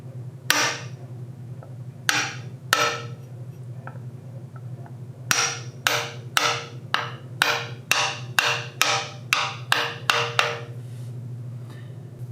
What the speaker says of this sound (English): using an inch and 13/16 socket and our favorite 2-pound hammer, we'll set this seal